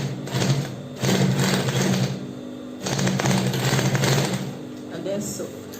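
A sewing machine stitches an Ankara fabric backpack in several close, loud bursts of fast rhythmic chatter separated by short stops.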